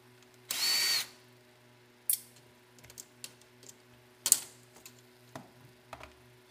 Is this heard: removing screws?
yes